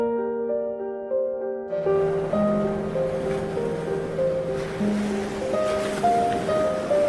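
Ocean surf on a beach near Mollendo, Peru, rises into a continuous broad washing roar after a quiet start, with sustained steady tones running underneath throughout.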